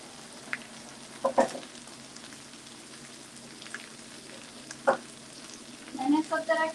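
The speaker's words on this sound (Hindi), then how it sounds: "नाउ दैट मसाला जब हम भून रहे हैं सब कुछ हो जाएगा" Masala with red chili, turmeric and coriander frying in a pan, a continuous soft sizzle broken by occasional clinks and scrapes of stirring, louder toward the end.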